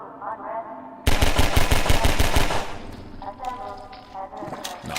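A loud, fast burst of automatic gunfire in Half-Life 2 rattles for about two seconds after a quieter lead-in, then gives way to scattered thuds and softer game sounds.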